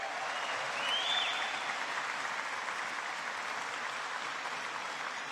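Steady crowd applause at a university event welcoming a new head football coach, with cheerleaders and a band present; a moderate, even roar of clapping from a distance, held throughout.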